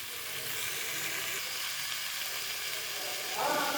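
Hilsa fish head, fried earlier, sautéing with taro stolons in a pan, giving a steady close sizzle with a slight swell near the end and no voices.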